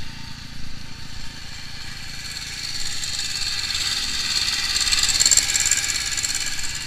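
A small engine revs above 3000 RPM while its carburettor is being tuned, giving a steady, buzzing drone that rises slightly in pitch and loudness partway through, with no speech over it.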